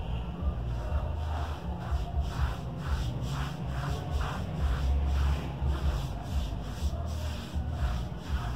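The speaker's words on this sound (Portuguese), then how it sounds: "é só passar a lata na parede" A can is rubbed back and forth across a wall coated in mortar to press a brick texture, making a continuous gritty scraping with rhythmic strokes, close up and without talk.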